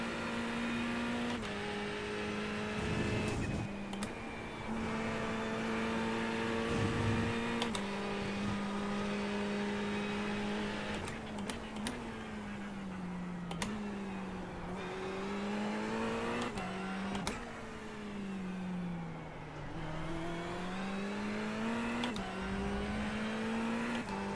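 A GT3 race car engine in the iRacing sim drones loud and steady, its pitch climbing and dropping through repeated gear shifts and downshifts before corners, with no voices.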